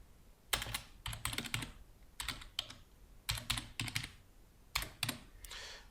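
Computer keyboard typing a password, heard as bursts of quick, close key clicks separated by short pauses, with no voices.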